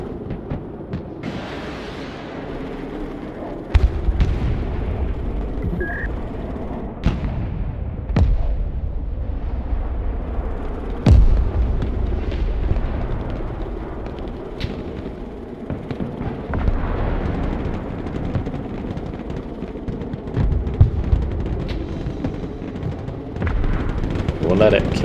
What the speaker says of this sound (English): we're absolutely mincing the ranger with the grenade launcher with the T80